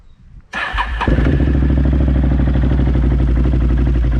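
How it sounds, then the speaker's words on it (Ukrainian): A BRP Can-Am Outlander 800 ATV engine cranks and catches after a brief rattle, then settles into a loud, steady chugging idle close by. "Так, заводиться чудово, все працює, моторчик робить як годинник"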